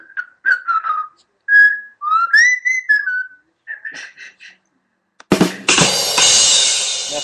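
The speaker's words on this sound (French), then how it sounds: "on siffle." A person whistles a short, lively tune in clear melodic bursts, then the whistling stops and a burst of broadband noise like applause or crowd sound follows.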